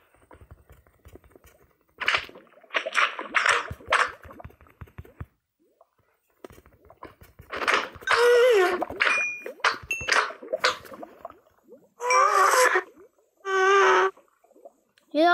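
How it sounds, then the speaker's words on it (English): Odd, harsh Minecraft magma block sound effects come in bursts, with wavering tonal squeals and clanging pings mixed with low rumbling, separated by brief silences. "What are those weird and ugly sounds? I think they're magma blocks."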